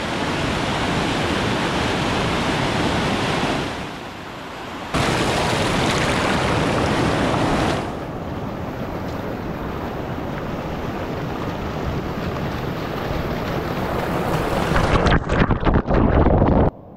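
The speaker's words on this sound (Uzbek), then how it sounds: "Suv mana shu toshlarning ichidan chiqyapti." Mountain spring water pours out from between rocks near a waterfall camp on Ispaytog, a steady loud broadband rush with wind buffeting the microphone, briefly dipping and returning, no voices.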